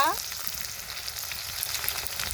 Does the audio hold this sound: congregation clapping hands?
no